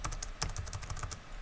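Computer keyboard keys clatter in a quick run of light clicks for a shortcut, close and crisp with no talk.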